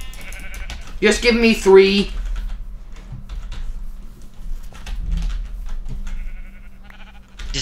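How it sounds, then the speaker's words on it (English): A Minecraft sheep lets out a short wavering bleat early on, followed by computer keyboard clicks while a player talks over the game sounds. "This is the last sheep we have to kill."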